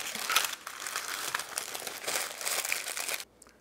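Sheets of parchment paper crinkle and rustle as vegan chocolate pistachio biscotti dough is flattened and wrapped, a close, steady crackling that runs for about three seconds before cutting off.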